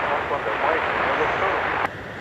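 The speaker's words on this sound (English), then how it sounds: "British Airways and Iberia heading out" Two British Airways and Iberia airliners heading out from Dublin Airport, a steady loud roar of jet engines that cuts off abruptly near the end, with talk over it.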